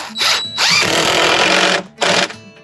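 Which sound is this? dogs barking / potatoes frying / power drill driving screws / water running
power drill driving screws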